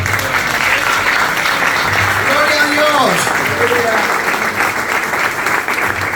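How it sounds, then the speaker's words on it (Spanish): A church congregation breaks into loud, steady applause that fills the whole stretch, with voices calling out praise over the clapping. "Dale un aplauso fuerte al Señor."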